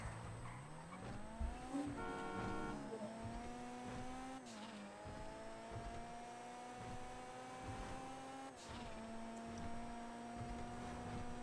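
A car in the video game GTA V Online drives with its engine droning and revving in rising, gear-shifting tones, plus a brief tire squeal, all fairly quiet and without talk.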